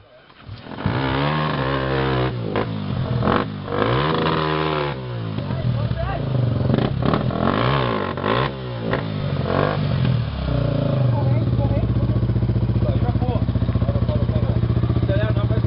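Motorcycle engine revved hard in repeated surges of throttle, loud and close, rising and falling several times before settling into a steady high-revving drone, with people talking nearby.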